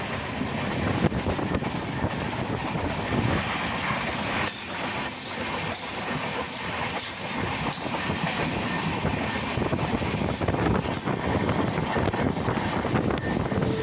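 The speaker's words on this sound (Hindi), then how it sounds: "हमारी ट्रेन छोटी बड़ी सभी हॉल्ट को अभी स्किप करते हुए निकल रही है" The Jogbani–Siliguri Town Express rolls steadily through small halts without stopping, its wheels clattering over rail joints in a continuous rumble with wind noise, heard from on board.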